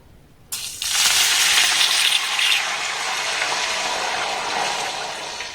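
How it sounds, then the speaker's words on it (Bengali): A bowl of water poured into a hot pan of sweet pitha ingredients cooked with ghee and rock sugar, a sudden loud rush that settles into a steady, hissing boil, close and continuous. "এক বাটি এখানে আমি জল দিয়ে দেব"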